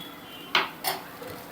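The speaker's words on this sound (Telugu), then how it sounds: "ఇంకా ఒక 3 minutes అలా మూత పెట్టేసి ఉంచుకుందాం." A lid goes onto a pot of broad bean curry on medium flame: two quick metallic clanks about a third of a second apart, close and clear, followed by a faint tap.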